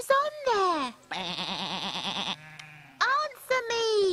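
Sheep bleating loudly in close succession on a farm, several wavering, drawn-out calls with brief gaps between them, with no talk over them.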